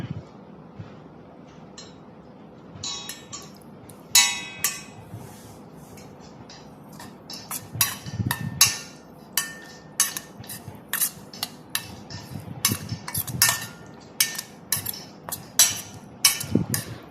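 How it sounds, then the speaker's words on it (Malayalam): Mango pickle stirred with added coconut oil, a spoon clinking and scraping repeatedly against the bowl or jar in an irregular rhythm, close and fairly loud with no talking. "വെളിച്ചെണ്ണ ചേർത്ത് നന്നായിട്ടൊന്ന് മിക്സ് ചെയ്തെടുക്കണം."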